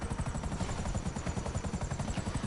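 A helicopter in the GTA video game, after being hit and failing fast, with a loud, steady rotor chop that pulses in a fast even rhythm across the clip.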